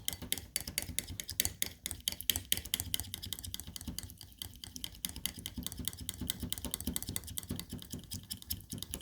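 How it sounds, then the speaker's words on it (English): Homemade anti-aging oil cream being stirred and whipped in a container, a quick, steady run of light clicking and tapping strokes, close and fairly quiet. "Get the mixing."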